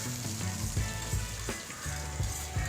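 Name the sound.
chopped onions frying in oil with mustard seeds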